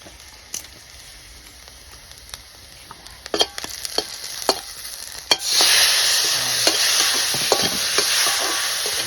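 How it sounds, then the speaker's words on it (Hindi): Tomatoes frying with onion and cumin in a pan, a steady close sizzle that swells louder midway, with sparse scraping clicks of stirring throughout. "टमाटो को थोड़ा सा फ्राई करेंगे"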